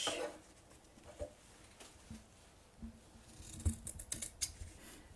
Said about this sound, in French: Donc ces 2 morceaux, il y aura un endroit et un envers. Donc on va les couper.